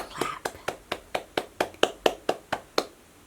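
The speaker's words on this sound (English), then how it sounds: "Yay, let's clap." Hands clap in a steady, even rhythm, about a dozen crisp claps spaced roughly a quarter second apart, fairly close and moderately loud, right after a bedtime story read aloud about construction trucks.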